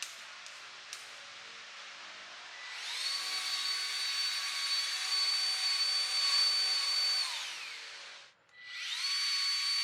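Milwaukee M12 cordless grease gun pumping grease, a high whining motor that spins up, holds steady for several seconds, cuts off, then starts again, close and alone.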